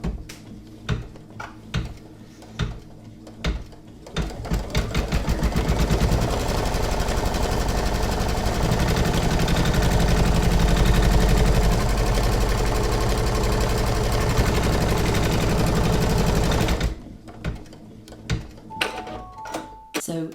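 Embroidery machine stitching an in-the-hoop coaster, a dense rapid mechanical chatter running steadily for about twelve seconds between quieter stretches of handling noise at the start and end.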